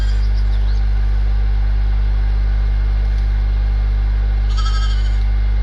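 Sheep bleating in a village-building video game, short bleats rising over a constant loud low electrical hum, with a brighter burst near the end and no talk.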